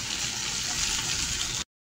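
Bay leaf and onion fry in hot oil, a loud, steady close sizzle that hisses continuously and then stops abruptly.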